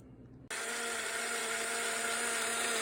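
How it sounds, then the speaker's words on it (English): Oreo cookies blend in a cup on a blender: after a brief quiet hum, the motor kicks on abruptly into a loud, steady high-pitched whirring drone that holds to the end. "Now you're just going to put your cup onto the blender and blend it."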